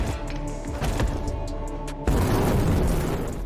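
A grenade blast in a war film set during the Korean War, a sudden loud broadband boom at about two seconds that cuts through a rumbling battlefield background with scattered earlier thuds, the roar sustaining afterward.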